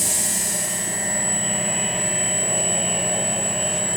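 A Gerber BP-Smart edge preparation machine for carbide inserts runs a polish cycle, giving a loud steady drone with a high, constant whine held unchanged throughout and no speech.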